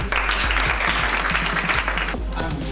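An audience claps steadily to welcome a speaker at an entrepreneurship event, many hands blending into brisk, continuous applause close by, with no speech over it.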